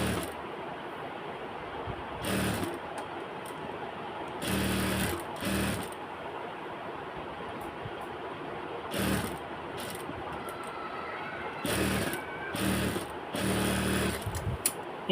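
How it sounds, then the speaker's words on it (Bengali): Sewing machine stitching a baby frock's fabric along the outer side, running in several separate bursts of a few seconds each with quiet pauses between, fairly close and loud against a low room hum. "এখন এটাকে চতুর্থ সাইড দিয়ে আবার বাহির দিক দিয়ে সেলাই করে দেব।"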